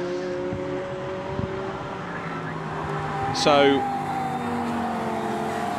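A Porsche GT race car runs at Oulton Park during a GT Cup race, its engine droning steadily with a sharp rising whine as it passes close by, heard under a commentator's voice.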